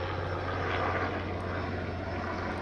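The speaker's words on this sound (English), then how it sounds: "Look, there's a helicopter. It's like a news helicopter of some sort." News helicopter flying overhead above woods, a steady droning engine and rotor hum heard continuously at moderate distance with no talk.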